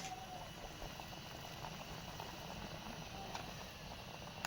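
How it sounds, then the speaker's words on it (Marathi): A pot of crab curry bubbles at a steady rolling boil, with dense continuous gurgling and popping from up close, no voices. "उकल पण आता लगेच आलाय"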